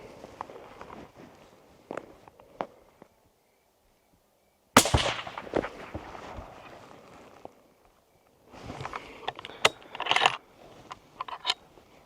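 Lightweight rifle firing outdoors at a range, with a single loud, sharp report cracking out followed by scattered clicks and handling noises of the action and gear, and a later burst of busy mechanical rattling.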